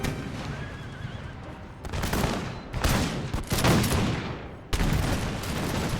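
Infantry firing muskets in an American Revolution strategy video game, several loud crackling volleys in quick succession over a steady battlefield din, with a horse whinny mixed in.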